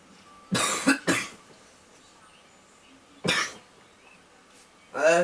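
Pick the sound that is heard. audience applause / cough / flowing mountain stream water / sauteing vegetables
cough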